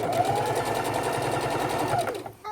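A sewing machine stitches around the neckline of an adult bib, whirring in one continuous, rapid, close run before stopping abruptly near the end.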